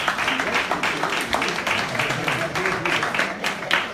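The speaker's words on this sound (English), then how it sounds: "So a round of applause to them." An audience claps through a round of applause at a book event, the dense patter of hands continuing steadily for a few seconds at moderate volume, with some voices mixed in.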